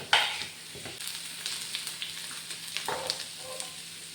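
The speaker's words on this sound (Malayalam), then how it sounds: "കുറച്ച് ഉള്ളി, ചുവന്നുള്ളി. ഇത് മൊരിയുമ്പോൾ മറ്റുള്ളതൊക്കെ ഇടും." Onions and shallots fry in a pan with a soft, crackling sizzle. A sharper burst opens the sound, followed by intermittent stirring scrapes and pops. No voices are heard.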